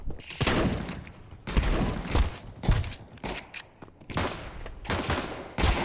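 Gunfire in the video game Counter-Strike 2 comes as loud, close bursts of rapid shots in several clusters, with thuds and movement sounds between volleys.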